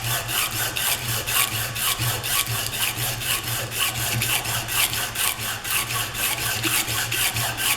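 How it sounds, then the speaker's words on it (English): A metal drill gauge is sanded by hand, with close, rhythmic back-and-forth scraping strokes repeating steadily at a moderate level. "I apologise, sanding isn't really a super exciting thing to watch."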